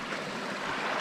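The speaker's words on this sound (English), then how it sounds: "I found this nice brook" Small brook in the Catskill Mountains rushing and gurgling steadily close by, a continuous broadband wash of flowing water.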